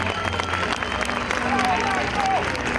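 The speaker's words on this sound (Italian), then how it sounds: "posso chiedervi un applauso al carnevale?" Applause from a crowd at a carnival award ceremony, steady clapping mixed with crowd noise and voices, with some talk underneath.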